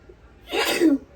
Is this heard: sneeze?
yes